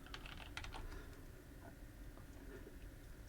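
Typing on a computer keyboard, a brisk flurry of clicking keystrokes that thins out into a few scattered taps, close and fairly quiet, with no one speaking.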